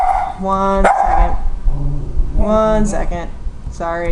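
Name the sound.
dog barking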